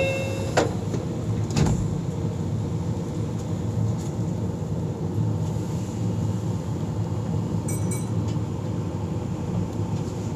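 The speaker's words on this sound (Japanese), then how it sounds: "ドアを閉めます。" Japanese commuter train between Chiryu and Higashi-Okazaki, its doors sliding shut with a couple of sharp clunks over steady interior rumble and hum, then a brief chime.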